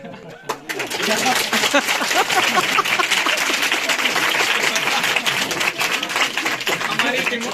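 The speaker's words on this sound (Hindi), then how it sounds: "हमारी डिमोशन के ऊपर तालियां बजा" Applause from an audience at a teachers' award reception at a school, steady dense clapping lasting several seconds after a brief pause, loud and close, with crowd noise mixed in.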